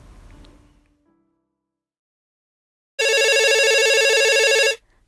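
After a short faint sound and two seconds of silence, a telephone rings for a caller on a radio call-in show: one loud, steady electronic ring lasting under two seconds that stops abruptly.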